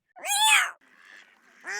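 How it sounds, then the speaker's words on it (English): A duck quacks in a loud, harmonic burst, then a quieter rasping call, then another short quack at the end, with no speech. A cat is nearby. "Stop that, you miserable flying feathered fowl. Shoo."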